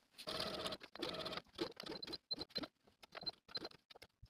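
A sewing machine stitching the J-shaped fly of a pleated pant, in close, quiet bursts of rapid needle rattle separated by short pauses.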